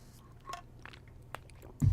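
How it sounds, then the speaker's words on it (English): Gum being chewed close to the mic during a gaming stream, with a few soft, wet smacks and clicks scattered over a quiet background. "you guys might hear me chewing gum again"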